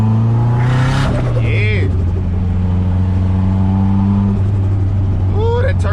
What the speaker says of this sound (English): Ooh, that turbo sound, I swear you cannot get enough of that, bro.